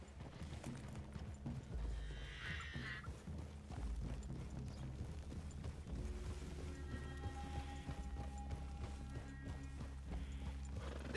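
Horses in the Red Dead Redemption video game, hooves clip-clopping softly along with a brief whinny, faint and somewhat distant over a low ambient rumble and scattered game sounds.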